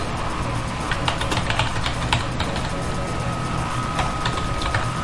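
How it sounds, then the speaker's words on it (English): Rapid, steady keystrokes as commands are typed on a computer keyboard while rooting a Motorola Milestone phone, clicking continuously and close over a constant background hum. "Don't worry what I'm typing here"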